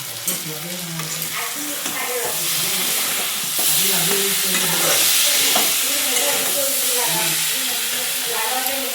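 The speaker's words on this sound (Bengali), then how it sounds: "আমার তরকারিটা সাঁতলানো হয়ে গেছে" A vegetable curry with green chillies sautéing in a pan, a continuous sizzle with scraping stirs that swells midway, while a voice talks over it.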